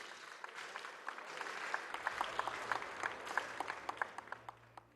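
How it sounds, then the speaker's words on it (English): An audience at an African awards ceremony claps for an honoree, a fairly faint, distant spread of applause that builds and then tapers, with a few sharper individual claps standing out. "Please give a huge round of applause for him on this great award."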